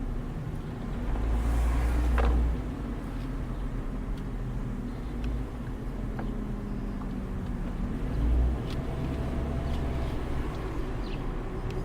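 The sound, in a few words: car driving through old neighborhood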